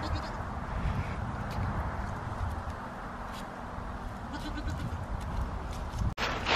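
Goats bleat steadily as they are let out of their large run on a farm, calling over a rough, noisy outdoor background for several seconds before a brief knock near the end.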